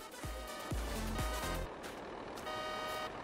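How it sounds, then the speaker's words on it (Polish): Several short car horn honks blare in quick succession in a farming video game on the Kolonia map, then a steady engine drone continues with faint tonal hum after the honking stops. "Ty, ktoś trąbi, czekajcie, co to jest?"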